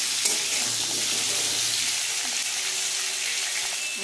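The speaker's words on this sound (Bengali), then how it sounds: "এবার আলুগুলোকে লাল লাল করে ভেজে নেব।" Potato pieces seasoned with salt and turmeric fry in oil in a kadai, giving a steady, even sizzle and crackle throughout with faint stirring scrapes.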